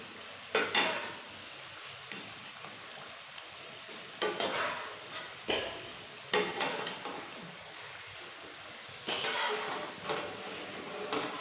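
Golden-brown potato samosas sizzling in hot oil as they are lifted out, with a steady frying hiss broken by several sharp clinks and scrapes of a utensil against the pan.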